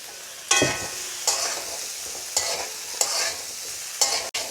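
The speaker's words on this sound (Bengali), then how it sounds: "এখন আমি এখানে আলুগুলো ভেজে নেব।" Potatoes fry in a pan over onion, garlic and chilli powder for homemade singara filling, a steady bright sizzle broken by five sharp stirring scrapes spaced about a second apart, close and loud with no talking.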